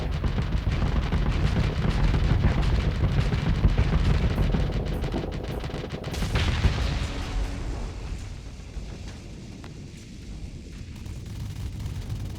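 A Hammerhead's dual heavy mortars fire in Starsector space combat, a run of dense booming blasts and rumbling explosions that thin out after a loud burst midway, leaving a quieter ongoing thud, with no talk.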